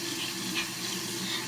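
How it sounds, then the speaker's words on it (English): Water running from a tap into a sink for hair washing, a steady close hiss and splash without pause, no talk. "So first, I put the hot water, then when it gets super hot, I put a cold water."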